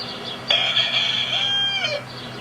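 A rooster crows once at early morning on a farm in Iowa, a loud, close, drawn-out call lasting about a second and a half, followed by steady faint background noise.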